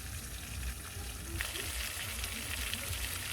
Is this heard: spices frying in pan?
yes